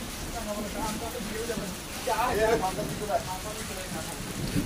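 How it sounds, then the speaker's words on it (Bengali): Rain falls steadily at Kutumbari, a countryside spot in Jhargram, as a continuous soft hiss of drops with faint voices murmuring in the background. "দেখো কি সুন্দর বৃষ্টি হচ্ছে"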